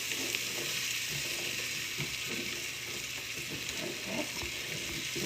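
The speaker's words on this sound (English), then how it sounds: "I'm going to give them a good stir because I want to make sure I can coat all of these sweet potatoes in the curried onions" Sweet potatoes are stirred through curried onions in a hot pan, giving a steady broadband sizzle with soft scraping stir strokes, close and continuous with no talk.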